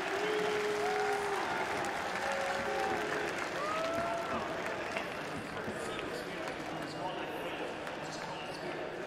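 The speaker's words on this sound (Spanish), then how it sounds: "ha pedido un aplauso para Spirit" Steady crowd applause and cheering for Spirit fills an arena at a PGL Major esports semifinal against FaZe, loud and sustained throughout, with scattered shouts rising above the clapping.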